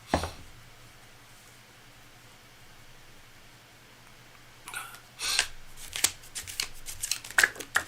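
Quiet room tone, then a deck of tarot cards is shuffled in several quick riffling bursts near the end, close and crisp.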